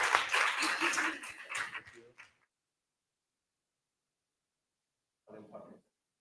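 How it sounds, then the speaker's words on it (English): Audience applause at a European science-and-society research conference: a short burst of clapping fades out within about two seconds, followed by silence and then a brief spoken voice. "and a big applause"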